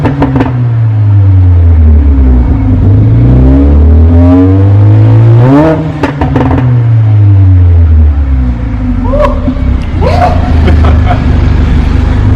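A Mercedes A45 AMG's exhaust revs loudly and close up, the engine note climbing and falling through several blips, with crackles and pops toward the end.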